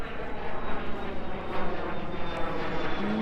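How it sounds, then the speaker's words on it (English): Airplane passing overhead above a boat yard in Miami, a broad steady rushing roar that stays loud and continuous for the whole stretch, with no talking. "another airplane"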